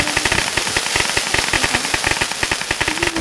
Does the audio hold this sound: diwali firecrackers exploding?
yes